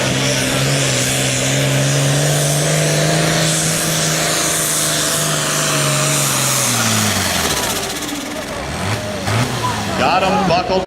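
Loud, roaring engine of a 9,300 lb super farm tractor at a tractor pull, with steady harmonics that rise and fall as it works under load, then shift near the end amid crowd and announcer noise.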